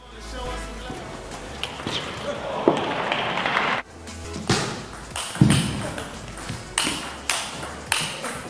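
Table tennis rally with sharp ball taps on paddle and table, an irregular run of crisp clicks and pings over steady crowd murmur, with louder hits spaced out in the later half.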